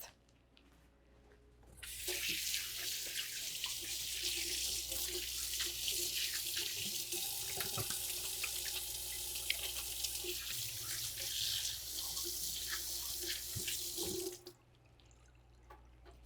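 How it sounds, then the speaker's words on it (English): Water from a kitchen tap running for hand washing, a loud, steady hissing stream that starts after two seconds and stops abruptly near fourteen seconds, with faint clatters over a low hum. "I'm going to wash my hands as soon as I finish this before I actually cook them"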